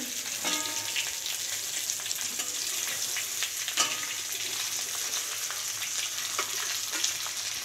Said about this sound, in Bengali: তো দেখো ফলুই মাছগুলো ভাজা হচ্ছে।